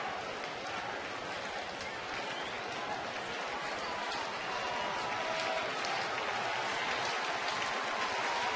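Rain falls steadily during a baseball game in Arlington, a dense, constant hiss of drops on surfaces mixed with a distant crowd murmur, continuous and even throughout.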